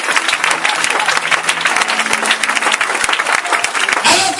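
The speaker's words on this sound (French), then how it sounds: "Acclamez-les puissamment." A church congregation claps loudly in a dense, sustained burst of applause at a Pentecostal-style sermon, filling the room for several seconds without any talk over it.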